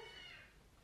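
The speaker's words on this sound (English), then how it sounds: "Yep, that was a cat." A cat meows once indoors, a short, faint cry heard alone that fades away within a second.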